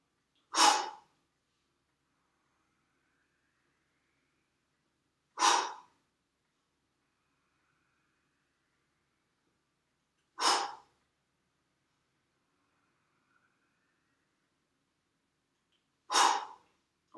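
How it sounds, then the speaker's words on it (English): Slow, steady breaths during a yoga session: four evenly spaced breathy exhalations roughly five seconds apart, each a short burst of soft airflow separated by near silence, close and clear. "Continue your own breathing."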